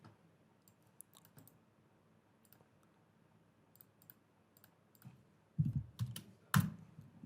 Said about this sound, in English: Let me just click on this.